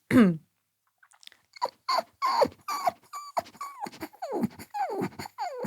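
A voice imitates a whining dog with a quick run of high, falling whimpers and yelps, close and fairly quiet.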